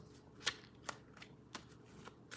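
Tarot cards being shuffled by hand, heard as a series of faint, crisp riffling snaps spaced irregularly against a quiet background.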